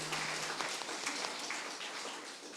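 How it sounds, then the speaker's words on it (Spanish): Congregation applauding during a Sunday church service, dense steady clapping filling the room for a few seconds without speech. "Estos aplausos allí a nuestro Padre Celestial."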